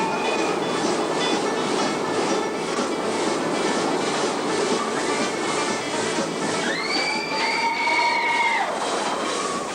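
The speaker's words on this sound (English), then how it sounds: "The runaway train gives you 3 minutes of the wildest ride in the wilderness." Runaway mine train of the Thunder Mountain Railroad ride at Disney World rumbles and clatters steadily on its track, with a loud, continuous rush and rattle, then high metallic wheel squeals rise over the noise near the end.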